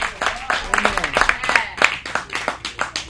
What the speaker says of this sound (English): So clap for Pastor Jemison.